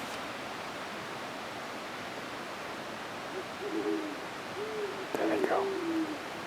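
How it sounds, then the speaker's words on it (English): Owls hoot back and forth at a campsite, one soft call answering another, faint and distant over a steady hiss of running water, with a brief voice near the end. "listen for these owls. Watch. There's one here and one over here."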